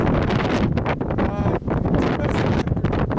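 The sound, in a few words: wind on a mountain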